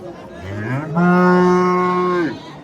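A cow at a livestock bazaar gives a single long, loud, close moo, rising then holding steady before trailing off over faint crowd murmur.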